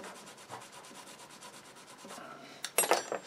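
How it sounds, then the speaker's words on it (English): A bottle brush scrubs out a bore on a 99 with soft, steady rubbing strokes, followed by a louder burst of harder scrubbing at the end; no voices. "I'm going to use a bottle brush and just scrub that out a little bit."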